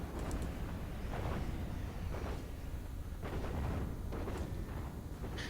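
Leveler units fire at mechs in Planetary Annihilation, a real-time strategy game, during a one-on-one match. A dense, faint rumble of distant artillery-like booms repeats steadily throughout the clip.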